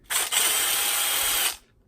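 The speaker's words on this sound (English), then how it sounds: "now I'm going to take my drill, because it's faster" A handheld power drill backs out a horizontal set screw on a RYKER grip mount on a Picatinny rail, one steady close whir lasting about a second and a half, with a brief dip near the start.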